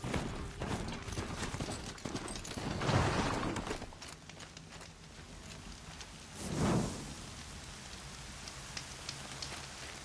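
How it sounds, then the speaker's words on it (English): Rain falls steadily in the Horizon video game, a constant hiss of drops spread across the clip with two brief louder swells of heavier patter. "There's the rain."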